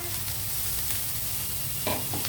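Onions fry in a pan, a steady close sizzle running throughout with a few soft stirring scrapes near the end, no voices.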